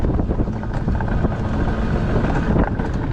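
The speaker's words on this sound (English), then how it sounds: "I don't know how much you're going to hear from the wind" Steady, heavy wind buffeting the microphone on the Hasenhorn Rodelbahn alpine coaster in Todtnau, a loud low rumble with faint rattling of the sled running through it.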